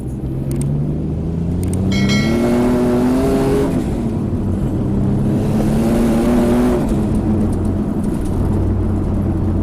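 Turbocharged Nissan 350Z Fairlady with a Rocket Bunny body kit revving loudly nearby, two rising engine sweeps with a steady heavy rumble beneath, no talking.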